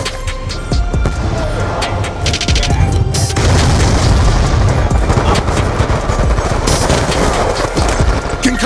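Loud, continuous gunfire in Black Ops 2: rapid bursts of shots overlap booming explosions in a dense, relentless barrage with no pauses.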